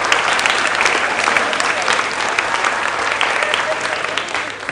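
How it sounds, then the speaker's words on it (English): A quiz-competition audience claps steadily and densely from start to finish, a loud, sustained applause with no talking over it. "Clap, please, put your hands together"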